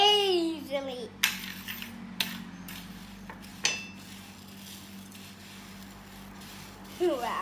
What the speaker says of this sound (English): now I'm gonna mix this